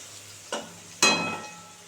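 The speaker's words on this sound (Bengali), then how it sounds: "আলুটা একটু ভালো করে লাল করে ভেজে নেব" Potatoes fry in a pan for a Bengali prawn curry, with a low sizzle and two quick scraping stirs, the second louder and trailing off, close by and without speech.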